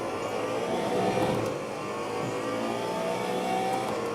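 Car engine in the racing game Assetto Corsa Evo revving steadily and loudly, a sustained close engine roar with slight rises in pitch across the whole stretch, no voices.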